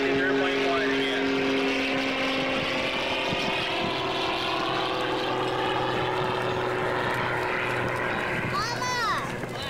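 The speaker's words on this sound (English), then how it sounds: "That was the plane you were talking about." A propeller aerobatic airplane flies at an airshow in Kern County, its engine drone steady and loud, with pitch rising and falling as it passes, under commentary and nearby voices.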